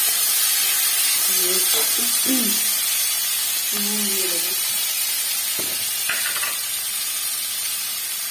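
A continuous loud sizzle of steamed vegetables frying in a pan for semolina upma, with a few brief spoken words and clinks over it.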